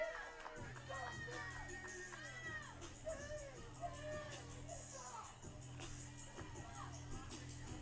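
Crowd noise at a 1CW pro wrestling show rises from the audience, a continuous babble of shouting and jeering voices with repeated loud calls swelling over a steady hubbub.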